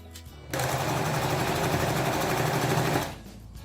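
A sewing machine stitches fabric scraps together, a steady close whirring run of about two and a half seconds that starts abruptly and then winds down, with no voices over it.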